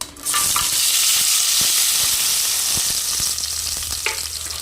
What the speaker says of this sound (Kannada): ಇವಾಗ ಇದಕ್ಕೆ ನಾನು ಹುಗ್ದಿ ತೆಗ್ದು ಕಟ್ ಮಾಡಿರುವಂಥ ಟೊಮೆಟೊ ಈರುಳ್ಳಿ ಮೆಣಸನ್ನು ಹಾಕ್ತಾ ಇದ್ದೀನಿ